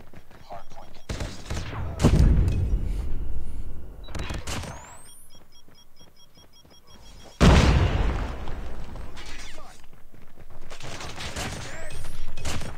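Grenades explode repeatedly in the COD Mobile multiplayer match, two heavy booming blasts landing several seconds apart amid scattered gunfire, loud and close with rumbling tails.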